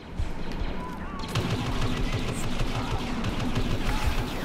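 Blaster gunfire in Star Wars Battlefront online multiplayer, a dense steady stream of rapid shots and battle noise that runs nearly the whole time, loud and continuous.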